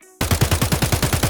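Rapid automatic AK-74N rifle fire in the video game Escape From Tarkov, a steady burst of about ten close, loud shots after a brief quiet start.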